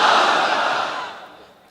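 A crowd at a religious lecture gathering in Madaripur shouts a takbir chant in unison, a loud massed roar of voices that swells at once and then fades out over a couple of seconds.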